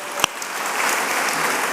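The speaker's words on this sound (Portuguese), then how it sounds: "Aplaude ao Senhor pelo Rafa aí." Church congregation applauding, dense crowd clapping filling the space, opened by one sharp nearby clap and continuing evenly.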